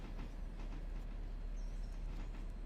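A locomotive in a train video game rumbles down the track with a steady, dense low roar and faint rail noise throughout, continuous and moderately loud, with no talking.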